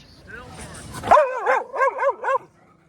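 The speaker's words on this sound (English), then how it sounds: "still barking." A puppy yips and whines in a short run of four or five high, wavering barks, close by on a beach, with rustling noise just before.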